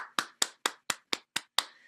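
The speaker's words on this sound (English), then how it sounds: "Give yourself a round of applause." Seven sharp, evenly spaced hand claps from a single person, quiet and close, each ringing briefly before the next, the last trailing off into silence.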